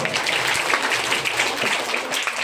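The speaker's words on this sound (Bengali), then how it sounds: "হাততালি হবে সুদাইসের জন্য আরেকবার" A group claps for a school student in steady, dense applause that lasts the whole moment, sounding moderately loud with no voices over it.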